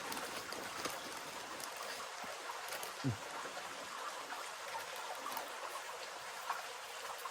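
A clear, emerald-green forest stream flows with a steady, soft hiss of running water and a few faint splashes and drips, constant throughout, with no voices.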